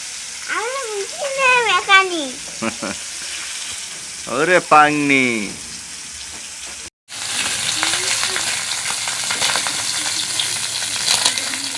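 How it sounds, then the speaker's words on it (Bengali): Fish frying in a pan indoors on a cold day, a steady hiss and crackle running underneath as someone talks and sings over the first half; after a brief cutoff the sizzle continues alone. "যে মাছ ভাজা হয়ে গেছে প্লেটটা নাও"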